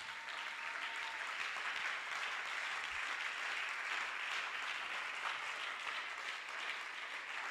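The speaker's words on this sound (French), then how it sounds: "On acclame le Seigneur pour lui." A church congregation applauds steadily and loudly throughout, a dense, continuous wash of clapping with no pauses.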